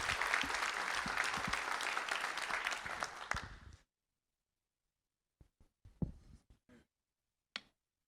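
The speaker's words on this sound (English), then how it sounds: "Big round of applause for Mr. Sanchez." Applause from an audience at a school district board of trustees meeting, a dense burst of clapping lasting nearly four seconds before cutting off, followed by a few scattered late claps.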